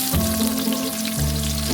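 Garlic sautéing in a pan for guisadong repolyo: a steady, close oil sizzle and crackle runs throughout, alone and without voices.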